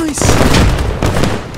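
Rapid gunfire from a Fallujah-set combat game, a quick cluster of loud, close shots with booming low thumps and crackle, a voice briefly heard under the firing.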